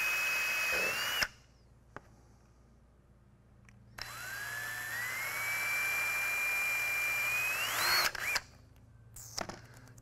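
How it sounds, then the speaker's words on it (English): A power drill bores 7/32 inch holes through a dash pad backing plate in two close, loud bursts, its whine climbing in pitch as each bit works through, with quiet pauses around them. "Drilling all four of these out."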